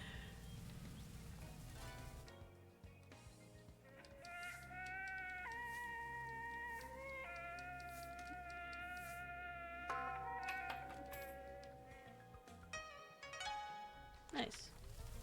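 Cat meowing in the video game Promise Mascot Agency, a series of drawn-out tonal meows and mews over a low steady background hum, fairly close and moderately loud.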